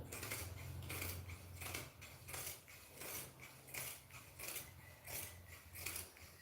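Scissors cutting the edge of suit fabric: repeated crisp snips in a steady rhythm, about ten close cuts over a low mechanical hum.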